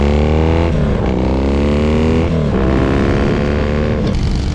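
Motorcycle exhaust captured by a GoPro Hero 9's built-in microphone, a loud, continuous engine drone with shifting rev pitch and a brief dip near the one-second mark, heard alone without talk.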